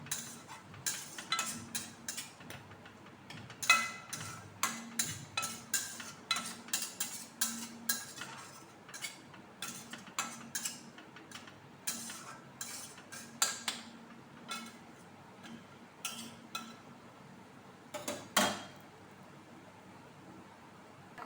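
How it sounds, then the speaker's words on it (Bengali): Spice masala with a little sugar is stirred and fried in a pan, with repeated scraping clinks of a spoon against metal over a soft sizzle, in an irregular rhythm throughout. "বেশি না, অল্প চিনি দিয়ে মশলাটা আমি কষাচ্ছি।"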